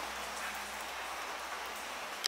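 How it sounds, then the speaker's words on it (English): Rain falling outside on a washing day, a steady soft hiss of drops on surfaces, even and continuous with one brief sharp tick near the end, no voices. "I've just looked outside and it's raining."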